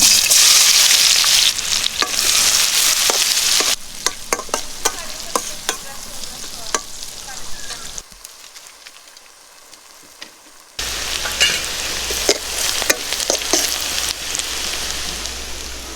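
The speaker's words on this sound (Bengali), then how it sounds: "এখন আমাদের ডিম ভাজা তেলের মধ্যে দিয়ে দিচ্ছি পেঁয়াজ কুচিটা।" Chopped onion sizzles loudly in hot oil left over from frying eggs, with crackling and spattering broken by stirring scrapes, a quieter stretch midway, then the frying noise returns.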